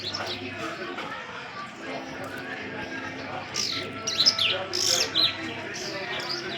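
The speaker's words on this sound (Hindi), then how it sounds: "देखो चिड़िया आ रही है, छोटी छोटी चिड़िया उड़ गई।" Small birds chirp and tweet in short bursts, growing brighter and busier toward the end, over steady background noise.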